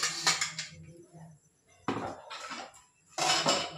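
Pots, dishes and utensils clatter in a home kitchen as things are tidied up while vermicelli kheer boils, coming in three separate bursts of clinking and knocking with quiet gaps between them.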